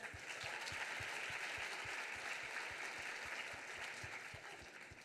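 Sustained applause from an awards-ceremony audience honouring students, a dense steady wash of many hands clapping at even loudness, with a low rhythmic pulse beneath, tapering slightly toward the end.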